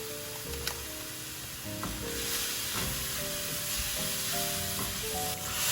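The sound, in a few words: garlic, tomato paste and spices frying in pan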